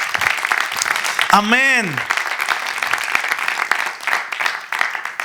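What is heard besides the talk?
congregation applauding in church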